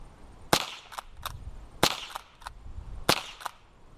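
The pump action of a Winchester 62 or Remington 12A rifle being worked to eject shells: three sharp metallic clacks, each followed by a lighter click or two, spaced about a second apart, close and crisp in a quiet room.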